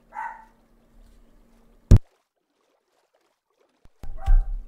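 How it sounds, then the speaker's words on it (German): A dog barks a few times in short separate bursts, with a quiet gap between them, in a room. It is fairly close and loud, and no one talks over it. "Mein Hund bellt gerade"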